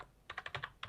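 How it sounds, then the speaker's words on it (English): Quick, close typing on a computer keyboard: about seven crisp key clicks in under a second, tapped in a short uneven burst with no voices. "If you go on the internet and type in septic tank"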